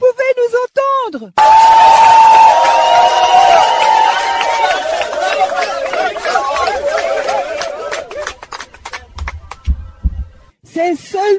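A large crowd celebrates outside a house, a loud wash of cheering and chatter that fades and breaks up over several seconds, while someone speaks up close before and after it.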